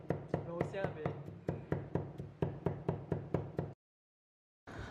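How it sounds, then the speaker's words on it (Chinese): A knife chops garlic into mince on a board, with a fast, even run of crisp, close knocks, about a dozen in a row, then a short silence before one more strike. "最后再把它剁成蒜末就可以了。"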